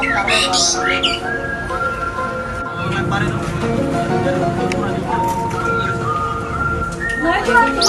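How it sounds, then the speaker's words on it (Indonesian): Kicer songbird calling amid a busy bird market or gathering: repeated shrill whistles and squawking chirps from several nearby birds, with people chatting over the calls throughout. "Oh, burung kicer ini, kicer."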